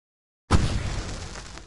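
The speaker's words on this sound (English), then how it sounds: "I can set off more of the fireworks from here and help you out!" A loud firework blast bursts suddenly after silence in the video game Alan Wake Remastered, then rumbles and crackles as it decays, with no voices over it.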